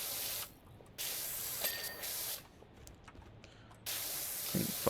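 In Powerwash Simulator, a pressure washer sprays in three separate bursts of roughly one to two seconds each, a broad close hiss with quieter pauses between them.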